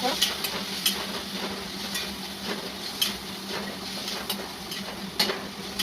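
Masala, including Everest garam masala, sautéed and stirred in a pan, a steady broadband sizzle with scattered clicks and scrapes of a spoon against the pan throughout.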